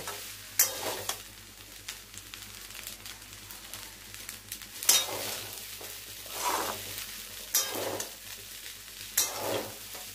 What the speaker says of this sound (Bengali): ভালো করে নেড়ে চেড়ে সব মিশিয়ে রেডি করে নেব।